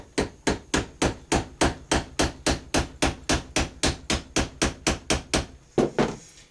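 About eighteen sharp, evenly spaced hammer blows, close and loud, drive a pin out of an AR15 bolt held in a vise, then a short pause and one final strike, with no talk.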